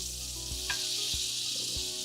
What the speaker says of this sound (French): Le beurre est en train de fondre.